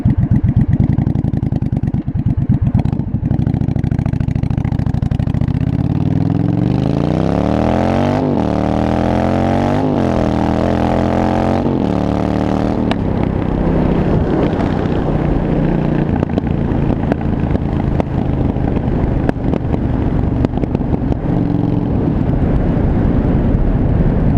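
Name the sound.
1982 Yamaha Virago 920cc motorcycle racing through streets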